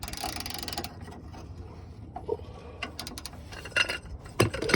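A ratchet wrench turns in a series of close, quick metallic clicks, with pauses between runs of ratcheting and a few sharper clinks of the tool, and no talking.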